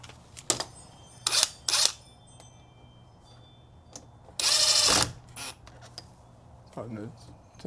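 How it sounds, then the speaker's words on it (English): Screws are tightened on a patio door lock, heard as several short close ratcheting and creaking bursts, one longer buzzing whir near the middle, and faint voice-like sounds near the end. "Cut everything on, then tighten up the screws."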